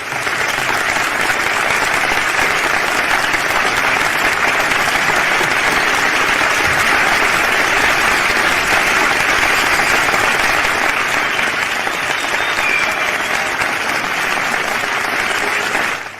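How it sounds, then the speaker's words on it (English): Sustained, loud applause from a graduation ceremony audience at a college, steady and dense throughout as a graduate is welcomed onto the stage, fading only at the very end. "a big round of applause."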